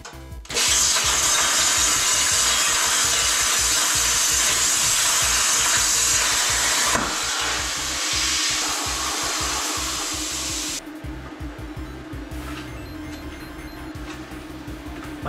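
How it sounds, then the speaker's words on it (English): A plasma cutter cuts scrap metal with a loud, steady hissing roar of air and arc, starting abruptly, changing tone partway and easing off near the end, with no talking. "I've never really used a plasma cutter before, but I'm just gonna try ripping a cut across some scrap metal and see how it goes."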